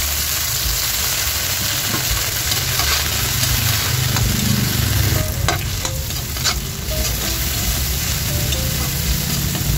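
Chopped onions and tomatoes frying and being stirred in a pan for ginisang monggo, a steady loud sizzle with scraping stir strokes throughout, no talking.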